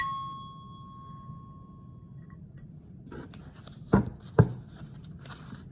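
A small bell rings out with a clear, sustained tone that fades over about two seconds, followed by a few sharp close knocks and taps.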